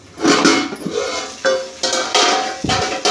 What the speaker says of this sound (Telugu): మూత పెట్టి ఉడికించుకునేద్దాం.